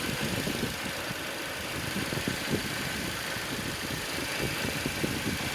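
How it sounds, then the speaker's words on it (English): A 2016 Audi A6 runs with its condenser fans on, giving a steady close engine idle beneath a broad whooshing fan roar, with no speech. "So we can see that the condenser fans are running."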